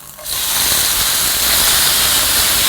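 Potatoes hit a well-preheated frying pan with a little cooking oil, and a loud, steady sizzle erupts within a fraction of a second. The hiss holds evenly for a couple of seconds with no one talking.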